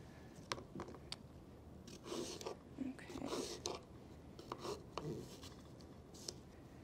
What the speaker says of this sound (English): Then what we can do is cut our apple into slices.